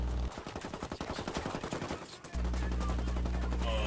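Rapid automatic gunfire bursts from a Tom Clancy shooter game, a fast string of close, punchy shots lasting about two seconds, set between stretches of steady low game hum.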